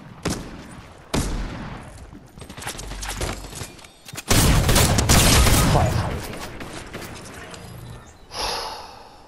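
Sharp gunfire bursts in a Fortnite match, close and loud, with a heavy sustained volley midway and scattered shots around it, alongside breathy gasps.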